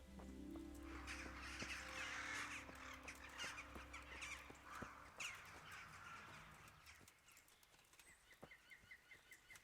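Crow-like cawing birds call in a forest in the medieval video game Kingdom Come: Deliverance, a series of harsh caws over a low background hum and sharp clicks, fading quieter toward the end; no talking.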